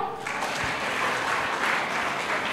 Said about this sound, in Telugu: అది వాడే వాళ్ళు అందరూ చప్పట్లు కొట్టారు.